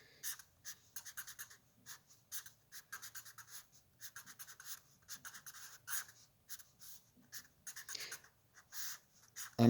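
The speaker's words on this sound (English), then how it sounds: "So let's draw the circuit." A circuit diagram drawn by hand on paper, close and faint, with short bursts of pen scratching and scribbling strokes broken by brief pauses.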